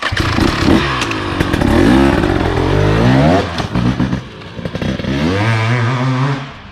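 Honda CRF110 dirt bike with Renthal handlebars, engine fired up and revved repeatedly, loud and close, the pitch climbing and falling through several blips before settling to a rough idle.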